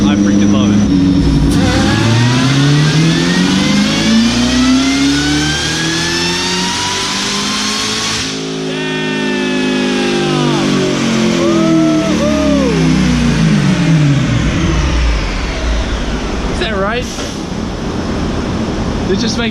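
A car engine revs hard on a dynamometer during a power pull, its pitch sweeping up and down through long sustained rising and falling passes, loud and close, with a second shorter rev near the end.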